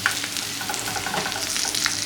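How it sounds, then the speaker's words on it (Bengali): Prawns frying in hot oil for a prawn chop, a steady close hiss with faint crackles and light stirring clicks throughout, no talking. "এটাকে সুন্দর ভাজা হচ্ছে, লাল লাল করে ভেজে নিচ্ছি।"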